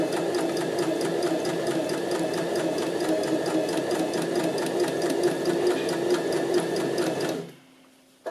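A sewing machine runs a zigzag stitch along a fabric seam in a fast, even, loud mechanical whir with a steady needle rhythm, then stops abruptly near the end, leaving near silence and a faint click.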